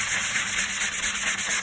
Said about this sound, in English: I'm going to do a bit of sanding on this. It's got like plaster on it.